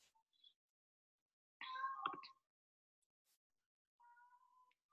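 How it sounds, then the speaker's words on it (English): A house cat meows to be let outside, with one drawn-out, wavering meow in the middle and a fainter, shorter meow near the end, close by in an otherwise quiet room, with no talk. "Can you hear my cat? He wants to go outside, but I'm busy."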